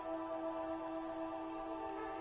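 Steady rain pours down across a city street at night, a dense, even hiss with no letup, heard alone.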